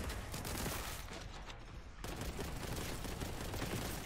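A bolter in the retro shooter Boltgun fires in rapid, continuous bursts of rocket-like bolts, a dense rattling barrage that pauses briefly midway and then resumes, fairly quiet overall.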